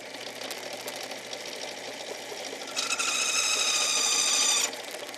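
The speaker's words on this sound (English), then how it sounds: "Doesn't take much, and this reamer is just taking very little off." A hand reamer works through brass bolsters for a dagger in a workshop, a soft continuous scraping with a motor-like hum that turns into a brighter, louder whirring grind for a couple of seconds before easing off.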